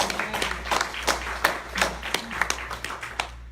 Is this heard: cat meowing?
no